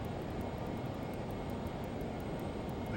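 Learjet 35 jet engine in a flight simulator as throttle is added, a steady broadband roar with a faint high whine, continuous and even with no talk.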